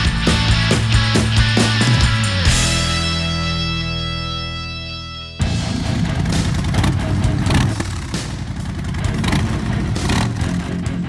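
A Harley-Davidson motorcycle rides a dirt stretch of the Estrada Real in Brazil, its engine loud and close, revving and clattering in steady pulses that shift in tone as the ride goes on, with no talking.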